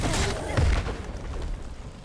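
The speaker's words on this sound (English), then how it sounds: "That guy's throwing grenades." Grenade blasts in the Nightingale game: loud, continuous booming rumble with a deep thump partway through, dense and close throughout.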